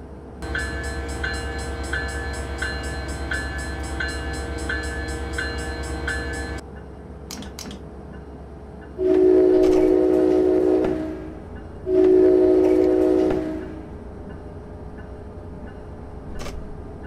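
An ALP-45D locomotive pulls away from Belmar in Train Simulator 2017, a steady low engine drone giving way to two loud, drawn-out horn blasts a few seconds apart.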